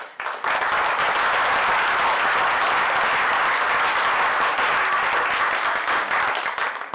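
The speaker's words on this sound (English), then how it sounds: "they deserve a huge round of applause for the fantastic efforts" An audience at a theatre show applauds the team behind it, a dense, sustained wash of clapping that starts abruptly and holds steady for several seconds before thinning out.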